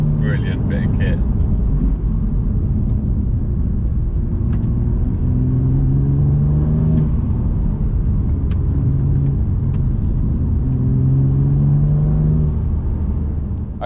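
A BMW M2 Competition with a Remus exhaust drives along, its engine rumbling low with repeated rising surges of revs, loud and close, with a short chirp near the start.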